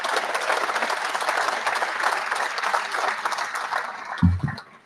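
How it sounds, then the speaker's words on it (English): Applause for a baseball steering committee at a 100th-anniversary celebration, a sustained round of clapping from a room of people that stays fairly even, with a brief bump near the end before fading out. "let's give those guys a round of applause"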